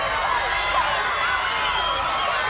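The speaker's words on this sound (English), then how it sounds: "The crowd screaming for her to go top rope." A live wrestling crowd at a Melbourne show roars and screams continuously as a wrestler drags her opponent toward the turnbuckle, with a dense, steady wall of noise that does not let up.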